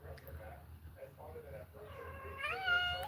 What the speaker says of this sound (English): This is my neighbor's kitty.